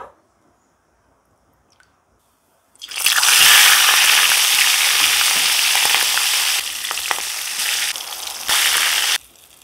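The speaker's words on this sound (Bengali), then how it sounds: "মাছ ভাজার জন্য চুলায় কড়াই বসিয়ে দিয়েছি, কড়াইতে তেল দিয়ে দেব।" Fish rubbed with turmeric and salt drops into hot oil in a wok. After a few seconds of near silence, a loud, sudden sizzle erupts and keeps crackling steadily, with shifting spatters, until it cuts off near the end.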